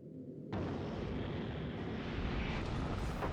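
A rocket launch in Factorio: Space Age, a sudden loud roaring rush that starts abruptly and holds steady as a broad, dense rumble with rising hiss.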